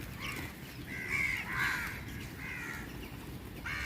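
Several crows caw in short harsh bursts against a steady outdoor background hum in Panaji, Goa, calls spaced irregularly and moderately close.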